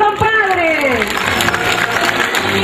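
A crowd applauds a man named Alfonso at the inauguration of a radio station, a steady wash of clapping running the whole time beneath a voice and music.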